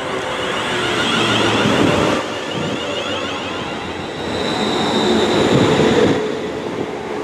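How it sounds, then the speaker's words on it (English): A train pulling into a station on the Stour Valley Line between Birmingham and Wolverhampton, with a loud, close rumble of wheels on rails, faint squealing and rising and falling rolling noise throughout, no voices. "So I am waiting for the next train to take us to Tipton"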